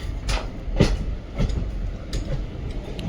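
A train rolls along the tracks on the Mangaluru to Goa coastal line with a steady low rumble and rhythmic clacking bursts, fairly loud and continuous, with no voices.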